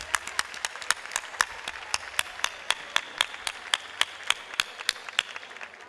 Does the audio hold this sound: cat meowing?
no